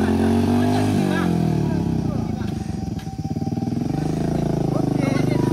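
Motorcycle engine labouring and revving up a steep hill climb on a rural road, loud and close, the pitch swelling and dipping as it strains, with people talking over it.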